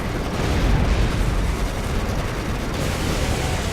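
A loud, continuous booming roar of tank cannon fire in the game Codename: Panzer Phase One, heavy and dense with no pauses.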